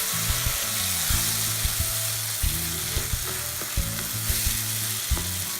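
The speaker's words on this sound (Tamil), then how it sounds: "இப்போ இந்த மசாலா கூட நல்லா மிக்ஸ் பண்ணிடுங்க." Minced paneer stirred into a spicy masala in a pan, with a steady sizzle and repeated scraping strokes of a spoon against the pan, close and clear without talk.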